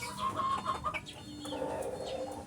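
Pet chickens cluck softly and continuously nearby, several short clucks overlapping with a low background hum and no talk.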